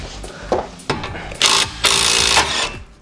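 A pneumatic air gun hammers against a ball joint to press it out, in loud, rapid bursts separated by short pauses, the last bursts running longer.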